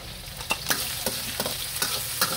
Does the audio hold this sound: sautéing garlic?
yes